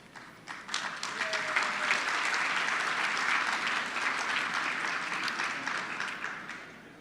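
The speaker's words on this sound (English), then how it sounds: "given that we're in an applause moment" An audience applauds at a regional awards event, the clapping swelling quickly and holding steady and fairly distant for several seconds before tapering off.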